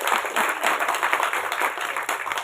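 An audience at a film audio launch applauds, a dense, steady burst of many hands clapping together in a hall, close and sustained throughout.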